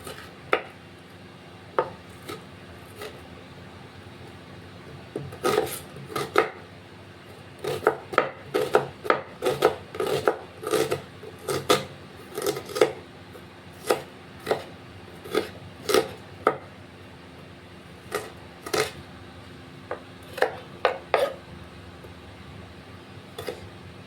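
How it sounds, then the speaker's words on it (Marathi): A knife chops onion on a cutting board, close and fairly quiet, with irregular sharp taps that come in quick clusters and sparse single strokes. "कांदा कट करून झालाय।"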